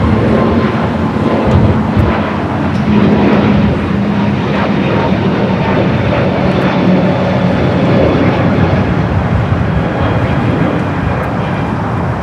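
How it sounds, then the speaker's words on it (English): A Boeing 777-200ER in Johann Strauss special livery taxis and turns left onto taxiway Bravo at Los Angeles International, its engines producing a steady, loud rumbling drone with a low hum throughout. "777 at 200 ER heading back to Vienna, making that left-hand turn onto taxiway Bravo"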